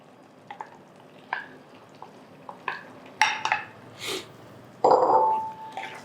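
Sautéed mushrooms tipped into a pan of gravy for a kadai mushroom dish, giving a few soft knocks and scrapes, a couple of louder clatters, then a brief splat-and-sizzle burst near the end, close by and with no talking.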